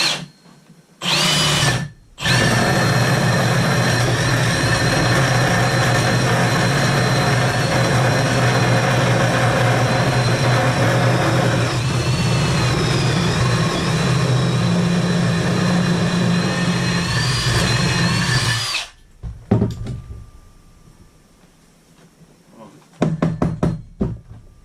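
A power drill runs continuously for about seventeen seconds while a plumber relocates a toilet, loud and close with a steady whine, followed by a brief bit of handling noise.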